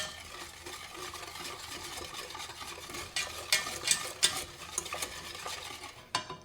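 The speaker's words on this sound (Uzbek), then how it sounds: "Sut solib aralashtirishni boshlayman." A spoon stirs milk into a batter mixture in a bowl with a steady wet swishing, building to quicker, louder scrapes and clinks toward the end, with no voices.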